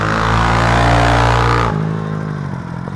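A 2006 Honda CRF 450 dirt bike engine revs hard and loud up close, holding a rough high roar for under two seconds before cutting off and dropping to a lower idle rumble.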